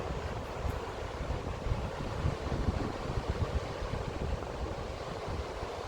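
Ocean surf and strong wind by the shore, a steady roaring wash of waves with heavy wind buffeting the microphone, continuous and loud with no voices.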